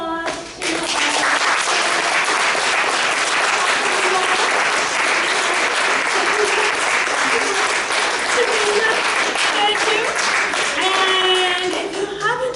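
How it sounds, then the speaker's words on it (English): Sustained audience applause at a community event, dense clapping filling the room for about twelve seconds, with cheering voices and chatter mixed in throughout. "I want us to give a round of applause to"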